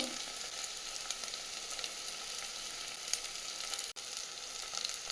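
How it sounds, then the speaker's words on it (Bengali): Spice masala with turmeric and cumin sizzles in a pan, a constant bright frying hiss with fine crackles throughout at moderate level, with no talk. "মশলাটাকে ভালো করে কষিয়ে দিতে হবে"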